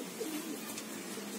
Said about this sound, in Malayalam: ഇതൊരു നമ്മുടെ ഒരു പ്രാവിന്റെ കൂടാണ്